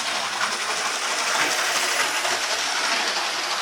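Hornby Class 37 model locomotive, an older worn DC model, running on a model railway track with a steady rattling, whirring hiss throughout and no voices.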